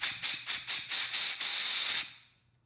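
Compressed air blows out the small parts of a Keihin FCR carburetor in a series of short sharp hisses, then one longer sustained blow that cuts off abruptly.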